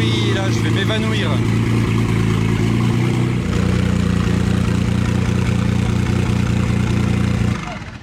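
Jaguar XJ220 engine running loud and close, a deep steady idle that swells partway through, then cuts off abruptly at the end.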